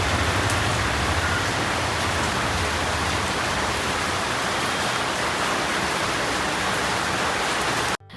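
Heavy rain pours outside in a dense, unbroken roar that holds steady throughout and cuts off abruptly at the very end, with no voices.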